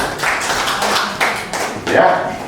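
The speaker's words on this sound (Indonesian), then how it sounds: "Tepuk tangan itu sama Infocom ini." Clapping breaks out in a room at an Indonesian official briefing, honouring Infocom, in scattered uneven bursts of hands, moderately loud, with a voice speaking over it.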